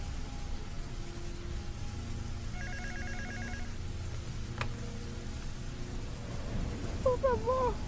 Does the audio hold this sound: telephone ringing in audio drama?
yes